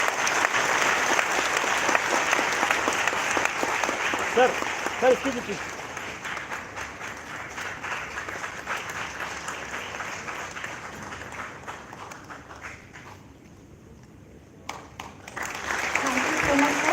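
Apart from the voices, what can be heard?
applause for the guest speaker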